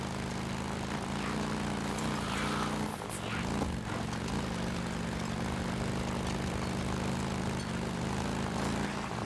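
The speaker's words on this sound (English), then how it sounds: "We don't want to lose our helicopter." A steady, droning rotor and engine hum fills the whole stretch, loud and unbroken, like a helicopter hovering close by, in the video game Days Gone.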